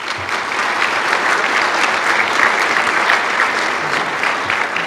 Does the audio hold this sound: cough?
no